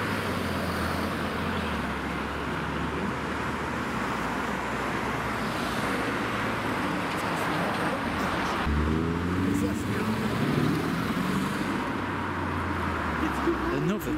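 A Range Rover SVR passes on a busy street in Alderley Edge, a steady roadside engine rumble rising as the car goes by amid constant traffic noise, with people talking nearby.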